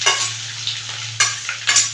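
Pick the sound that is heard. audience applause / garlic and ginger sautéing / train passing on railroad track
garlic and ginger sautéing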